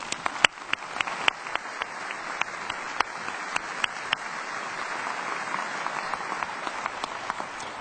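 An indoor audience at a university inaugural ceremony applauds steadily to welcome members of the Indiana General Assembly, a dense wash of clapping with a few sharp, close claps standing out, and no voices over it.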